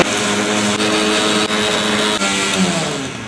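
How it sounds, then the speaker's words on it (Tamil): A mixer grinder blending watermelon runs at full speed, a loud steady whirring drone with a slight dip in pitch as it churns, no voices. "மிக்ஸில போட்டு அரைச்சு எடுத்து போவோம்."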